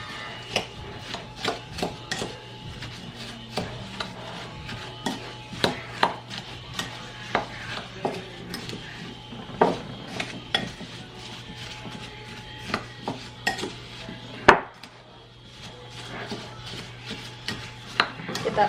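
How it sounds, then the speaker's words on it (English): A spoon stirs a cinnamon, ginger and spice mixture in a bowl, giving repeated close, soft scraping and tapping strokes in an uneven rhythm over a faint steady hum. "And then we are going to just stir this all up."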